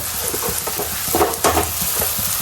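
Onion pakoda frying in hot oil: a loud, close bubbling sizzle with frequent crackles and stirring scrapes throughout, no speech.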